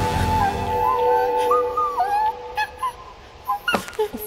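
A dog whimpers in Happy Game, a high, wavering whine that rises and falls, followed by short broken yips and whines after a brief low rumble at the start.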